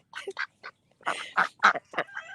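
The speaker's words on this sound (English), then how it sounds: "it's really hard to walk with the crazy ducks" Ducks in a garden giving a burst of loud, close, raspy quacks in quick irregular succession, several calls overlapping briefly.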